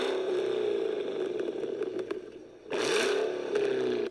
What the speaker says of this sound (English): the Escalade V sounds so good